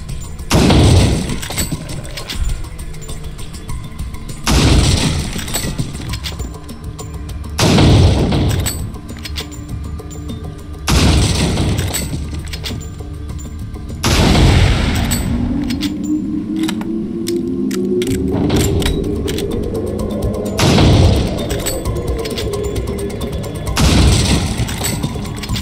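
Sniper rifle shots boom at bottle caps on a Resident Evil 4 shooting range, loud evenly spaced reports roughly every three seconds with reload clatter between them and a rising mechanical whir.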